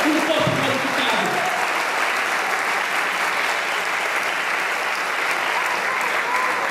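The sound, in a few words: congregation applauding in church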